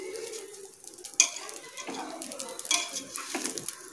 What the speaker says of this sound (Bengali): যতক্ষণ না পুরো চালটা গরম হচ্ছে ততক্ষণ আমরা এটা মেশাবো